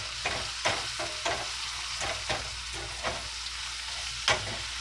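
Steak searing in a hot pan, being turned to cook on all sides: a quiet continuous sizzle broken by a series of sharp spatula taps and scrapes every half second or so, with no talking.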